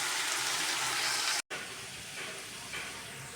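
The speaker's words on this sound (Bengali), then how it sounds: "এইটা দিয়েই লাউয়ের ছোলাটা ভাজি করা হবে।" Bottle gourd peel fries in a pan with turmeric, salt and green chili, giving a steady, close broadband sizzle and hiss that breaks off briefly midway, then resumes slightly quieter.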